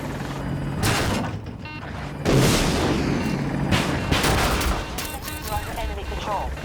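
Battlefield 2042 combat around an Apache attack helicopter firing TOW missiles and a 127mm gun: steady loud rotor and engine roar with repeated sharp booms and gunfire bursts close by, plus a brief voice mixed in.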